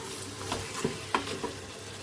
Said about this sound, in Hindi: अब ये डाल के इसको 1 मिनट और भून लेते हैं अच्छी तरह।